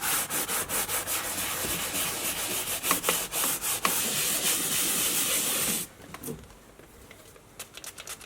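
A brush scrubs P&S interior cleaner into a leather car seat in quick rhythmic strokes that run steadily, then break off into quieter, scattered rubs, with no voices.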